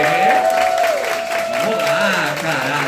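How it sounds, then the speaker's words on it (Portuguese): Loud, continuous applause and crowd noise fill a ballroom culture event, with voices and a sustained tone running under the clapping. "Ó, salva de palmas"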